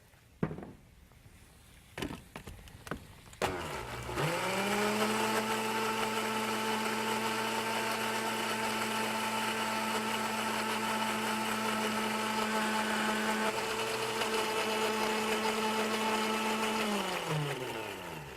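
A blender whirs steadily and close, emulsifying a salad dressing of oil and garlic, its motor spinning up after a few clinks and knocks, holding an even drone for about thirteen seconds, then winding down.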